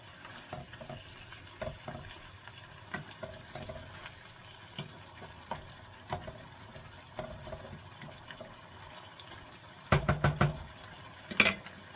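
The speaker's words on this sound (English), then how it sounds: "So I'm going to do a quick little stir." Quiet scraping and clinking of a utensil stirring tomato sauce pork chops in a boiling pot, with soft bubbling, and a few louder knocks near the end.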